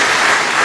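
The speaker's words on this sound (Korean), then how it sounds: "우리 말씀 전해주신 우리 이동훈 목사님께 감사의 박수로 화답하도록 하겠습니다." Steady, loud applause fills a church during a 40th anniversary thanksgiving service, a dense unbroken clatter of many hands with no voices over it.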